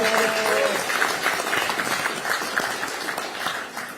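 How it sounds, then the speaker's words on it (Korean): Sustained applause from a crowd at a Democratic Party rally in South Gyeongnam, greeting candidates as they are introduced; steady dense clapping throughout with a few voices calling out beneath it. "한 분 한 분 소개할 때마다 큰 박수로 맞이해 주시면 되겠습니다"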